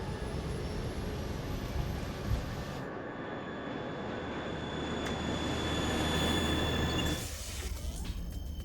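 Airbus A320 jet accelerating on its takeoff roll during an acceptance test flight, a loud, steady engine roar with broadband rumble that swells and shifts as the aircraft lifts off, with no voices.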